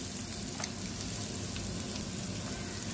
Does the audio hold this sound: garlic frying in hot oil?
yes